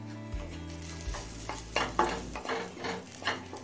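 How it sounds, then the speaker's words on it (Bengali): Grated ginger, chopped garlic and green chili frying in a pan over a medium flame, a soft sizzle broken by several scraping stirs of a spoon against the pan, close by with no voices. "এবারে সবকিছু মিডিয়াম ফ্লেমে আরো কিছুক্ষণ ভেজে নিচ্ছি।"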